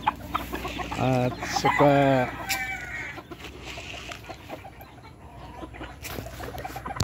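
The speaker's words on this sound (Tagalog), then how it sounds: "May mga sisiw ako dito" Chickens and chicks cluck loudly up close, with a few sharp squawks early on, then softer clucking and peeping continues; a brief spoken word slips in.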